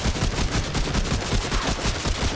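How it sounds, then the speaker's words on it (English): The Devastator crossbow in Remnant: From the Ashes loosing five bolts at once, a dense, loud burst of overlapping sharp impacts that fills about two seconds, with no speech. "it's a crossbow that shoots 5"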